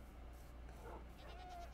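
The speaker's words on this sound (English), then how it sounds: "They're all rainbow sheep?" Rainbow-colored sheep in Minecraft give a faint, short bleat against a quiet ambient game background.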